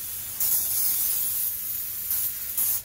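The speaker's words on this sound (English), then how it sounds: "we do actually have spray canola oil, so I tend to just sort of spray it to help" A spray can of canola oil gives several loud, close hissing bursts while oiling a lasagna dish, with one long spray followed by shorter pumps.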